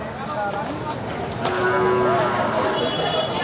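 Cattle low at a buffalo market in Erragadda, Hyderabad, with a drawn-out moo standing out over a busy, noisy outdoor background.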